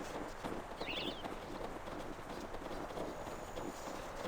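Horse hooves clip-clop in the fantasy role-playing video game Icewind Dale: Heart of Winter, a quick, even run of hoof clatter over a dense game ambience, moderately faint and continuous.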